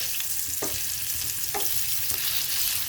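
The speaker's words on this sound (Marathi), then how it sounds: "आता मी राहिलेलं पनीर असं फ्राय करून घेते।" Paneer pieces frying in a pan for dhaba-style paneer masala give a steady, close sizzle, with a few soft stirring clicks and no voices.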